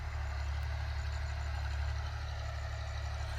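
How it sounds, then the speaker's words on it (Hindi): A tractor rumbles low and steady after wheat sowing on a farm field in Pothohar, Pakistan, a continuous moderate engine drone heard alone without speech. "ट्रैक्टर वापस जा रहा है काम मुकम्मल होने के बाद"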